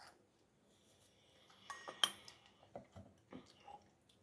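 A drinking glass taken out in a home kitchen gives a run of light clinks and taps against other dishes, close and fairly quiet, several small knocks spread over a few seconds.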